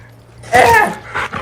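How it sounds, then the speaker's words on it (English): A puppy in The Last of Us Part II lets out a short, close whimpering whine, a brief cry that trails into a second softer whine, alongside a voice. "Oh, don't kill the puppy!"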